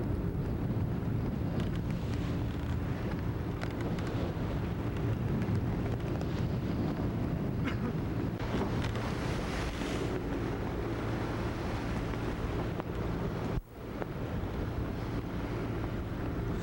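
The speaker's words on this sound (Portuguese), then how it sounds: "O vento é a leste e as vagas estão um pouco grandes na saída" Strong wind and waves on the open sea during a 1991 sailing trip, with steady, loud rushing buffeting against the microphone and one brief dropout, and no voices.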